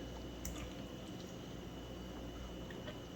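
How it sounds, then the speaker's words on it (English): Birria taco meat mixture being stirred in a pot, a steady wet squishing and sloshing with soft drips, close and continuous without any talk. "Let's stir it around a little bit."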